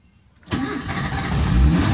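A Daihatsu Zebra Espass engine cranks and catches after a short silence, settling into a loud, rough mid-pitched running rumble close by, with no talk.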